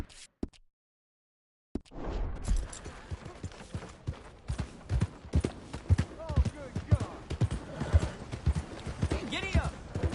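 Horse hooves clip-clop at a steady trot in a PS4 video game, a rapid rhythmic patter that starts after a short silence and continues close and fairly loud, with voices speaking over it.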